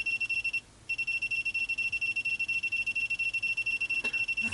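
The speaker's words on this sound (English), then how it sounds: "Now the beeping's going worse." A SEC E9 cutting machine sounds a sensor-error alarm: rapid, even electronic beeps repeat in a fast unbroken rhythm, with one brief pause near the start.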